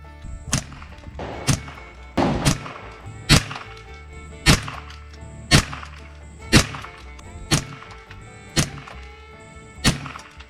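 Unsuppressed gunfire from 45 grain subsonic rounds, about ten sharp, loud shots at a steady pace roughly one per second, each cracking and then decaying quickly, no talk.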